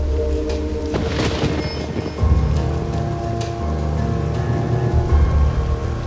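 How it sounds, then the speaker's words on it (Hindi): Heavy rain pours steadily in a film scene, with deep rolling thunder booming through it and sustained musical tones beneath. "बारिश हो रही है"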